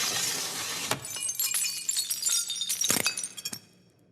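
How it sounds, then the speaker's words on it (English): A dropped glass shatters with a burst of crashing and cracking, then scattered sharp clinks and tinkling shards settle over several seconds before fading to quiet. "I dropped the glass."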